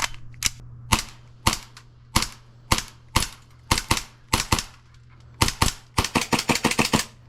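An airsoft pistol fires BBs in a run of sharp, loud, close cracks, spaced single shots at first, then a quick burst of shots near the end.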